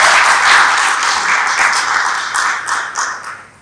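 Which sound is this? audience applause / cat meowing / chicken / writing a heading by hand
audience applause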